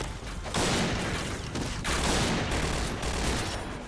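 Rapid automatic bursts from a G11 rifle in a first-person shooter game, loud and close, with dense continuous volleys broken by brief pauses across a few seconds.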